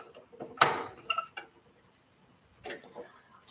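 A sewing machine gets rethreaded with its bobbin, giving a sharp close click followed by a few small mechanical ticks and creaks, then a softer rattle, in a quiet room.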